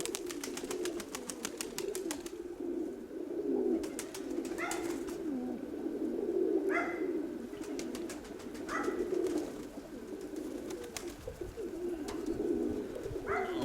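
Low, soft cooing from pigeons repeats in throaty phrases, close and fairly quiet, with occasional clicks and flutters in between.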